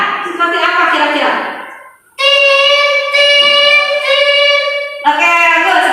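Children's voices imitate car horns stuck in a traffic jam, producing loud sustained honking tones in several bursts with a brief pause partway through.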